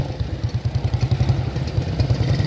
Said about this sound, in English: a 1923 Panther Sloper, probably one of the oldest two-wheeler machines on the roads of Kolkata